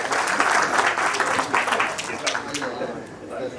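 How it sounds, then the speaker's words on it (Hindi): Audience applause at a book launch, a dense burst of clapping from a crowd that continues steadily with a voice speaking over it. "एक बार बहुत जोरदार तालियां बजा दें।"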